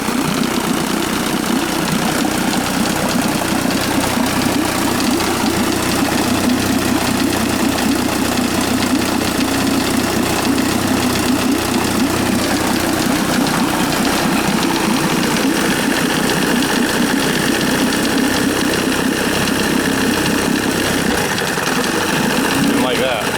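A 1955 Chris Craft boat engine running after a cold start, a loud continuous low rumbling idle close by, steady throughout with no clear change in pace.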